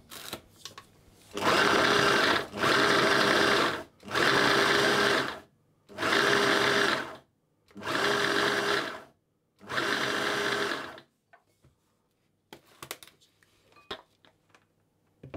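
Food processor pulsing butter into a crumble mixture for a plum crumble pie, six loud bursts of roughly a second and a half each with short gaps, followed by faint clicks and handling noise.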